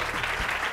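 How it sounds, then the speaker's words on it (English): Steady applause from a crowd, many hands clapping continuously at a fairly loud level with no voices over it. "clap your hands."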